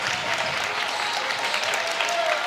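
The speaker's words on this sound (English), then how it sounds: "The Auburndale clap chant starts." The home crowd at an Auburndale boys high school basketball game keeps up a clap chant. The packed gym fills with continuous, steady clapping and crowd noise.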